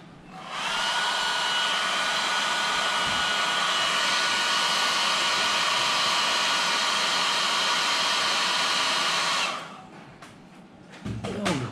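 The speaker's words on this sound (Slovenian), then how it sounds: "Lahko malo to pospešimo, ker že imamo fen." A hair dryer blows steadily to speed the drying of oil paint on a scale model, its loud whining hum starting abruptly, holding for about nine seconds, then cutting off, followed by faint handling clatter.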